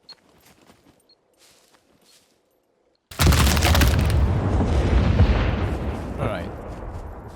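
A C4 charge detonates in the SCUM survival game, first faint footsteps and shuffling, then a sudden heavy, close blast that rumbles loudly and keeps roaring for several seconds before slowly easing.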